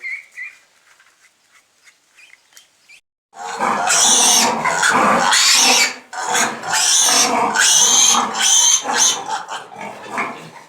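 Loud, piercing squeals from piglets being vaccinated erupt after a quiet start and continue in long, shrill bursts with brief pauses between them.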